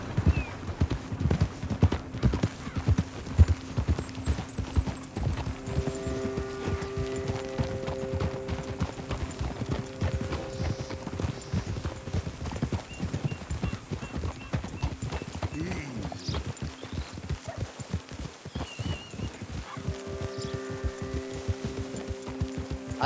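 Steady hoof clip-clops keep up a brisk rhythm throughout in Red Dead Redemption 2, with a horse snorting and neighing at times and occasional tonal game music layered over.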